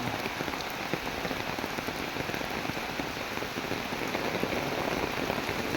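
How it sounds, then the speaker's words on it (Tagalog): Steady heavy rain from a typhoon pours down, drumming densely on surfaces with constant hiss and patter, no voices. "Grabe ang tubig dito, malakas na ang ulan."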